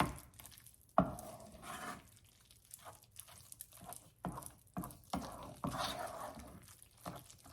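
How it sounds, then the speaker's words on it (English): A spinach, cheese and chicken enchilada filling being stirred in a hot pan, with scattered soft scrapes, taps and wet patters coming in irregular bursts, close and fairly quiet, with no talking. "Just mix all that together."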